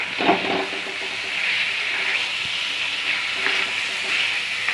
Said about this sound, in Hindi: पहले मटन को इसमें अच्छे तरीके से भून लेंगे